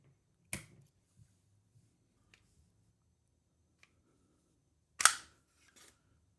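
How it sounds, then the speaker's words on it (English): Two crisp metallic clacks from the slide of a CZ P07 pistol as it is taken off, close and isolated against near silence, with a few faint small ticks between them. "Okay, now the magazine is removed and we're gonna take the slide off."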